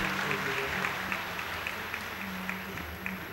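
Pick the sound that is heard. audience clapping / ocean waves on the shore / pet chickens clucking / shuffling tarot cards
audience clapping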